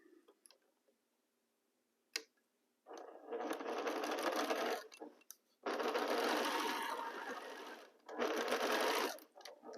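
Sewing machine stitching quilt pieces together in three long, loud runs separated by pauses, with a sharp click before the first run.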